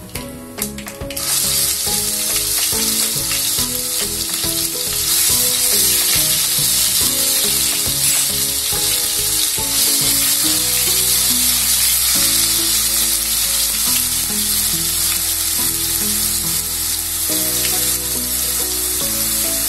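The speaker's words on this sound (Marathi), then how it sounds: "मोहरी घालूया, जिरं। इथे तुम्ही लसूण टेचून पण घालू शकता, असा ओबडधोबड, पण पेस्ट होती म्हणून मी ती पेस्टच घालते।" Mustard seeds, cumin and garlic paste sizzle loudly in hot oil while a red amaranth stir-fry is started, a steady, dense crackle lasting the whole stretch after a brief quieter start.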